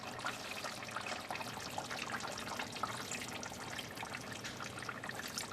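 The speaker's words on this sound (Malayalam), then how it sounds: "ഇനി നമുക്ക് ഇതിലേക്ക് 1-ാം പാൽ ചേർക്കാം." Thick first coconut milk pours steadily into a chicken and ash gourd curry, a soft, continuous liquid trickle and splash heard close and alone, with no voices over it.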